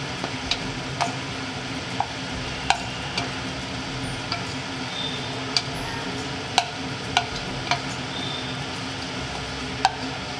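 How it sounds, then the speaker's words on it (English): Marinated roasted chilli chicken being stirred in gravy with ginger paste and black pepper, a spoon scraping and clicking against the pan in irregular taps over a low, continuous sizzle. "Stir them well"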